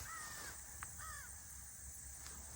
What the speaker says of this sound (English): Hearing that crow is crying.